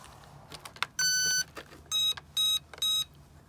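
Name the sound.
beeping from RC airplane after installing flight battery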